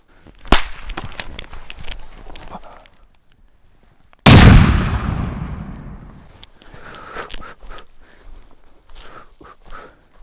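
An F1 hand grenade detonates during an explosive test of soft ballistic armor, a single loud, sharp blast that rolls into a long fading rumble, with footsteps and handling noises before it and scattered after.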